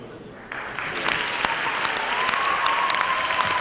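A crowd at a statewide social entrepreneurship conference in Georgia claps for participants, applause swelling after a quiet start into a sustained, even roar with a faint whistle-like tone near the end.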